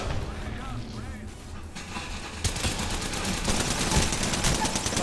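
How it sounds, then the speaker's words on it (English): Grenade blasts and gunfire in a shooter video game set at Area 51, a dense barrage of booming explosions and crackling shots that grows louder midway, with players talking over the battle. "those grenades took me down"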